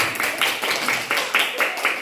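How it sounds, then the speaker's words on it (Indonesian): Children in a Grade IV elementary classroom clap their hands in a fairly quiet, rhythmic series of claps with a few louder hits, and voices murmur underneath. "Oke, tepuk tangan."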